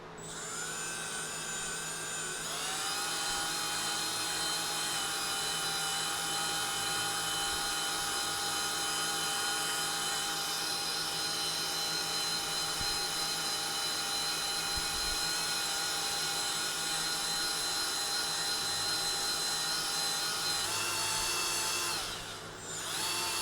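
A rotary power tool polishes an S&S Super E carburetor from a built Shovelhead through successive sanding grits, a continuous loud high-pitched whirring whine held steadily throughout, with slight shifts in pitch and load.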